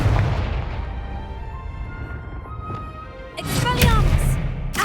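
A Confringo spell blast in Hogwarts Legacy lands as a booming burst near the end, after a stretch of rumbling combat noise with softer thumps.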